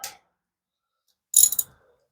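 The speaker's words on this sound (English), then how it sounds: "let's just loosen this 13 millimeter." Ratchet turning a 13 mm bolt on the timing belt tensioner of a 2013-2016 Dodge Dart with the 1.4L turbo: one short click at the start, then a quick burst of ratcheting clicks after a silent pause, close and fairly crisp.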